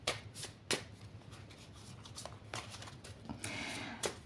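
A deck of oracle cards being cut and shuffled by hand: sharp, quick riffling slaps and crisp card snaps at irregular intervals, close and clear with no talking.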